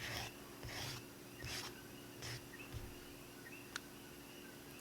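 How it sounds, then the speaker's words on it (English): Nail file rasping across fingernails in short repeated strokes, about five passes with gaps between, soft and close with a faint background hum. "that way you're not filing so much your nails that you're making a dent"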